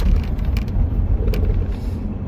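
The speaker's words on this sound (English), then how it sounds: "3-liter V6 push-rod engine." A 3-liter V6 push-rod engine in a wagon runs with a deep, steady low rumble heard from inside the car, loud and continuous with a slight throbbing pulse and no talking.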